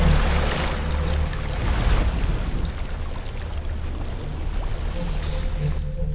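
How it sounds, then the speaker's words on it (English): A waterfall in Hellblade: Senua's Sacrifice rushes continuously, a loud broadband splashing roar that stays steady throughout, with no voices over it. "a waterfall."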